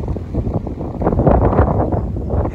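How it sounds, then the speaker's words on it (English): Strong wind on a mountain trail in the Appalachians buffets the microphone in a steady, loud roar with gusty low rumbling throughout. "I don't know how much of this you can hear because it's very windy."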